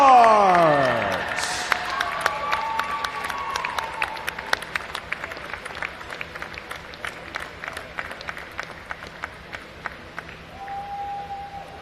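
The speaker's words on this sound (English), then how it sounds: "a round of applause for your top 3 finishers in the men's team scores" A crowd at a junior swimming championship awards ceremony applauds, the clapping loudest at first and then thinning into scattered claps that fade over several seconds.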